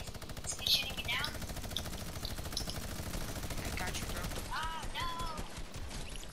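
Rapid bursts of gunfire from a video game shootout, with an SMG among the weapons, crackle densely and continuously throughout, with short chirping game effects near the end.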